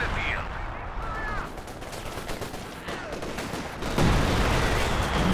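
Machine gun fire from Company of Heroes 2 during a 2v2 match, a fast mix of rapid gunshot bursts and battle noise that gets louder near the end, with no speech.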